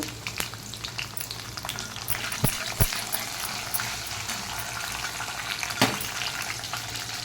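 Garlic pieces, cumin, mustard seeds and coriander seeds sizzle steadily in hot tempering oil, a close, even frying crackle with a few sharp pops and no talk.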